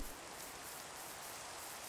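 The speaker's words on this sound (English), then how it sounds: "so it's raining, and I hate rain" Steady rain falls in Minecraft with the FTB Revelation modpack, a dense, even hiss of drops that holds unchanged throughout at low volume with no speech.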